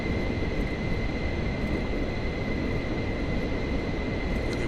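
Steady, even roar of a Pilatus PC-24 business jet's engines in Microsoft Flight Simulator 2024, a constant broadband rush with a thin high whine running through it, heard alone without voices.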